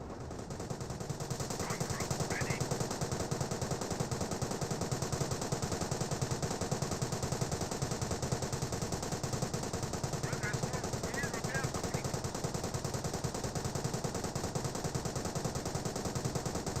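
Rapid machine-gun and rifle fire from the Company of Heroes video game keeps up an unbroken rattle for the whole stretch, with faint bursts of voices above it.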